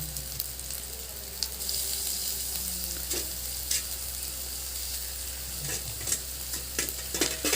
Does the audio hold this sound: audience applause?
no